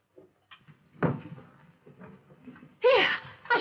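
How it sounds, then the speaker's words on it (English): A door is opened indoors in a house, a brief creak and soft clunk, then rustling movement and a sharper bump near the end, with no talking. "Open the door."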